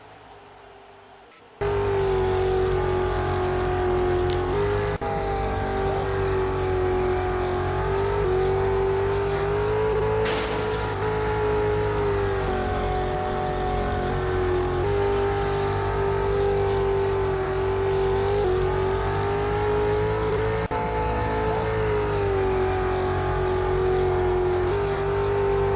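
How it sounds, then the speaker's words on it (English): Onboard engine of the number 38 race car at Parkview Raceway, a loud steady drone with strong harmonic whine that rises and falls through the laps, close and continuous after an abrupt start. "We're going to go on board with the number 38 car as he pursues Shulk"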